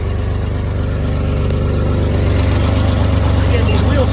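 A 1971 Mercedes 280 SL idles with an exhaust leak toward the front, giving a steady, close, low rumble that holds even from start to finish, with no gaps or revs.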